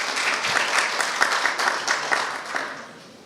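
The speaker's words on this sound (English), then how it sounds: "Come on, applause." Lively applause from an audience at a community academy awards quiz after a contestant gives the right answer, many hands clapping in a dense, continuous burst that tapers slightly at the end, with no voices on top.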